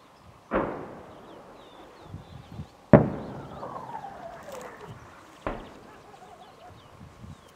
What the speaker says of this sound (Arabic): قصف مدفعي من الحواجز تبع ميليشيات النظام على مدينة اللطانة بريف حماة الشمالي